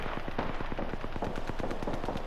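Gunfire in the Apex Legends video game, rapid bursts of shots in a quick rhythm with no voices over them.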